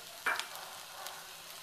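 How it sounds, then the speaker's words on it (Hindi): Ginger hits a small amount of hot oil in a pan after roasted peanuts, giving a quiet, brief sizzle with a soft crackle, then faint frying hiss that fades into near silence. "अब मैं इसमें डाल दूंगी अदरक, मैंने तेल काफी कम डाला है"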